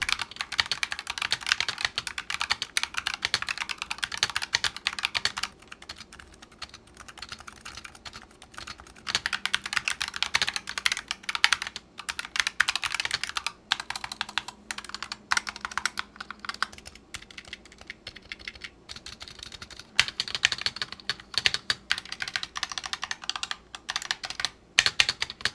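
Typing on a Razer Huntsman Mini keyboard with linear switches: steady, fast clatter of keystrokes with brief pauses, close and alone with no voices.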